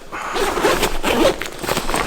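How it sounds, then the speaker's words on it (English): The top of an F-Stop Gear Tilopa photography backpack is unzipped up close: a run of quick, rasping zipper pulls, loud and clear, with no other sound. "this top will actually unzip."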